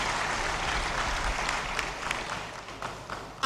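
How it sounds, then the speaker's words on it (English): Applause at a university convocation ceremony, a steady crowd clapping that fills the whole stretch evenly and moderately loud, with no talk over it. "A round of applause."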